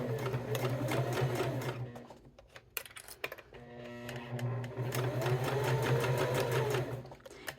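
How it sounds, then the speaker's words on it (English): A sewing machine stitches along the edge of cork fabric in two sustained runs of steady mechanical whirring, with a short pause and a few clicks between them, heard up close. "We're just going to stitch down this edge nice and straight."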